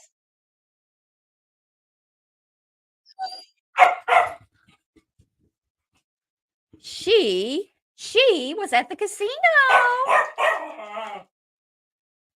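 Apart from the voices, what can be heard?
dogs barking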